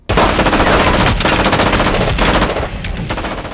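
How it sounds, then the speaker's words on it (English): Loud, sustained bursts of rapid automatic gunfire crackle without pause, close and intense, with no voices. "Heavy gunfire is exchanged between the two, and Hank is able to get a hit on Tuco"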